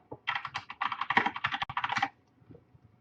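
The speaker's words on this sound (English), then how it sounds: "so I'm just going to type in lottery ticket" Fast, close keystrokes clatter on a computer keyboard in dense bursts for about two seconds, followed by a few faint scattered taps.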